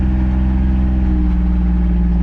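A Gator farm utility vehicle's engine runs close by with a steady, even drone and a low throbbing hum that holds at one pitch throughout.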